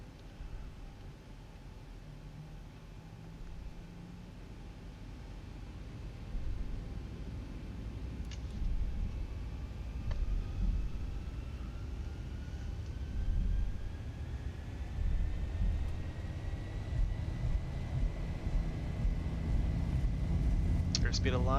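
A Boeing 737-800 in X-Plane 11 rolls down the runway for takeoff, engine roar building gradually from a low rumble to a louder steady drone with rising whine, while a voice talks over it.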